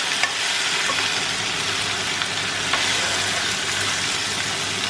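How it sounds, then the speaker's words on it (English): Chicken frying in soy sauce in a pan, a steady close sizzle with light scraping from stirring throughout, no voices. "Give it a stir."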